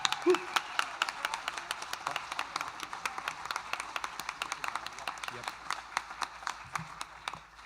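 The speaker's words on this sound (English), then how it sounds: "give them a big round of applause as well" A live concert audience applauds steadily, dense clapping filling the room for several seconds before tapering off.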